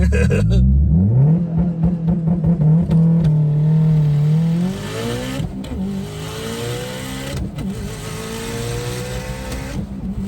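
A 700hp Mitsubishi Evo X revs hard and holds a steady high engine drone for a launch, then the pitch climbs and drops through quick gear changes as it pulls away, loud and close throughout.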